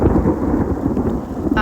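Thunder from a thunderstorm directly overhead, heard as a loud, close, rumbling roll that holds steady and fills the whole moment.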